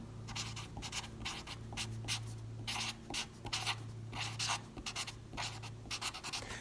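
A pen or pencil writes the word parallelogram by hand during a math lesson on quadrilaterals. Faint, close scratchy strokes come in short bursts over a low steady hum.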